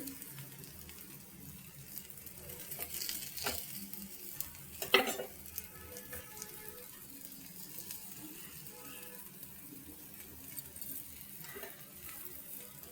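Pesarattu, a green gram dosa topped with onion and carrot, sizzles steadily in oil on a hot pan, with a continuous soft frying crackle and a few louder scraping or stirring clicks partway through, and no voices.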